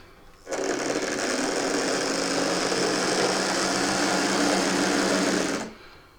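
The small electric motor of a Lima class 47 model train whirs in a steady, high buzzing drone for about five seconds as it runs over track points, starting and stopping abruptly, close and fairly loud.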